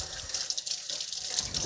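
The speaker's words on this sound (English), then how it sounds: "I'm going to rinse my hands real quick." A kitchen tap runs steadily as hands are rinsed under it, a close, continuous splashing rush of water with no talk.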